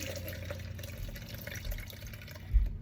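Water is poured through a small strainer into a little container in a garden, a soft steady trickle and splash heard up close, with a brief thump near the end.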